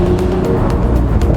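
A supercar's exhaust in sports mode drones loud and close as the car drives along, a steady deep engine note with a rough, grainy texture and no talk over it.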